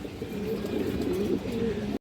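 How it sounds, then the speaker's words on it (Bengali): A large silver bankra male pigeon of an old bloodline coos close by, a steady low rolling coo running unbroken for about two seconds. "সিলভার বাঁকড়া একটা নর কবুতর মাসাল্লাহ এক হাত সাইজের একটা কবুতর দেখেন"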